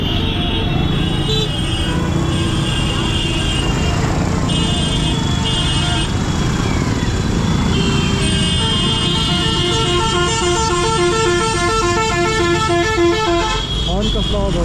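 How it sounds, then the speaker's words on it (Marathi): Vehicle horns honk repeatedly on a rural road in Bihar amid bus and traffic noise, with long blaring tones and quick toots layered over engine rumble while people talk nearby. "हॉर्न कसला आवाज होता तिकडे?"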